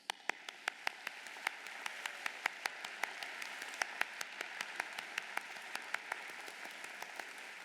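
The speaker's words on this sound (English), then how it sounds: "I would like to ask our students to show their appreciation to you with a round of applause." Graduates at a liberal arts college commencement applaud their families, a thin, sparse scattering of claps with a few sharp, close individual hand claps standing out above a softer background of distant clapping.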